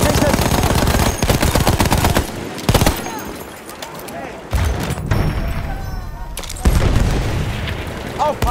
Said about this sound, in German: Maschinengewehr gesichtet!